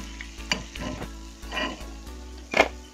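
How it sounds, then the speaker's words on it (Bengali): Slices of bread frying one by one in hot oil for a sweet dish, a steady close sizzle broken by several sharper crackling bursts and clinks from turning the slices, with no voices. "এবার এক এক করে ব্রেডগুলো ভাজা করে নেব, একদম কুড়কুড়ে করে ভাজা করব।"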